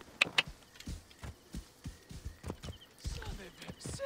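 Rhythmic hoofbeats of a horse in Assassin's Creed Origins, quick thudding clip-clops repeating through the clip, fairly quiet, with a few sharper clicks.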